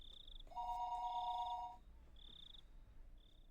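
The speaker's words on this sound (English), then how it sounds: "the phone began to ring again." A telephone rings in the Higurashi When They Cry video game, a warbling electronic ring burst over a soft background of chirping insects, followed by quieter repeated high tones.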